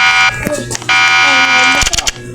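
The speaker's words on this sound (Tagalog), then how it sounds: "Alarm." A loud, harsh electronic alarm buzzer drones steadily in a video game, briefly cutting out and returning, while players shout and talk excitedly over it.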